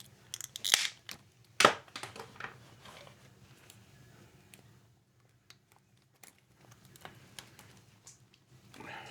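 A plastic compressed-air pipe is cut through with a cutter: a few sharp snips and clicks close by, the loudest near the start, then quieter handling noises and small clicks against a low room hum.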